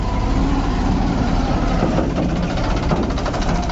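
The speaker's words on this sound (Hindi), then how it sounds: "दूसरा ट्रैक्टर आ रहा, उससे निकाल लेंगे" A steady, rumbling Eicher 380 tractor engine idles continuously at close range, a low heavy drone with faint knocking and no speech.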